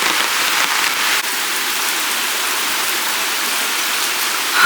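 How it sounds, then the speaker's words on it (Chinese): Heavy rain drums on a backyard camping tent in Toronto in summer, a loud, dense, unbroken patter close to the fabric with a brief dip partway through and no voices. "好大的雨呀！"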